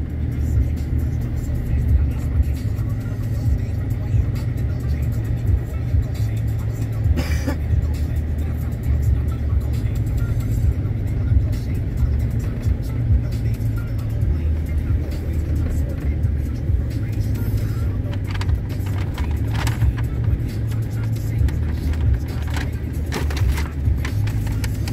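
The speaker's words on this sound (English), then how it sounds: "Gonna be driving the Chevy Silverado." A Chevy Silverado drives through a blizzard over cement roads, giving a steady, loud low engine and road rumble with constant whirring tire noise and no pauses.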